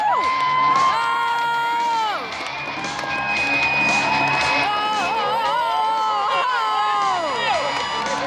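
A rodeo crowd cheering for a bronc rider at the Silver State Stampede in Elko: a sustained mass of shouts, whoops and wavering cries with scattered clapping, loud and continuous throughout.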